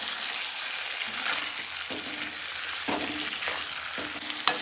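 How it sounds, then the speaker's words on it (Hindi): Carrot pickle being stirred in a hot pan with vinegar, a steady sizzle and frying hiss running throughout, with several distinct scraping stirs of a spoon across the pan, loud and close, no talking. "अच्छे से हमारा विनेगर भी 30 से 40 सेकंड के आसपास हमने इसको मिक्स कर लिया है"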